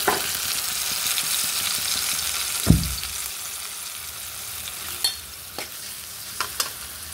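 Onions frying in a pan with salt and ginger garlic paste added, giving a steady close sizzle with one sharp hiss as the paste goes in and a few small clicks of stirring.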